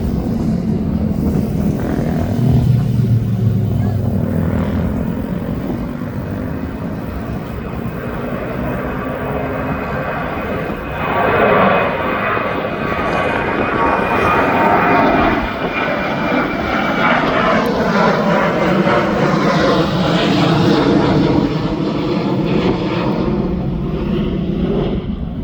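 A Jet2 jet airliner taking off at East Midlands Airport, a loud sustained engine roar that swells as it passes, with a rising whine and rumble lingering before slowly fading into the distance.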